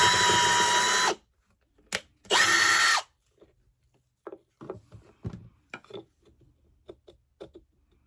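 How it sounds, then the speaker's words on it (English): Power drill boring a hole in wood for a fabric-scrap Christmas tree craft: two loud, steady bursts of about a second each, close up, followed by quieter handling clicks and knocks. "So I'm going to drill right down the center of that."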